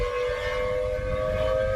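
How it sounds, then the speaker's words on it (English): A wailing civil-defense-style siren with a steady tonal drone over low rumble, loud and continuous for the whole short stretch, with no talking. "Are those like actual like sirens?"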